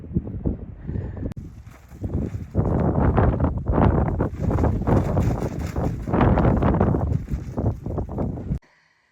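Strong wind buffeting the microphone in a Greenland fjord, loud roaring gusts surging and dropping in bursts, close and harsh, ending abruptly.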